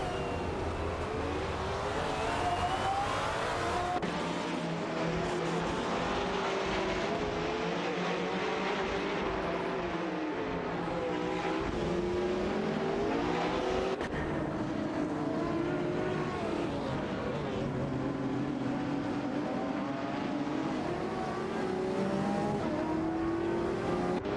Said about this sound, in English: Canal Gas 77 and Funya Shell Gaming are racing closely together in their Lamborghini Aventador SFEs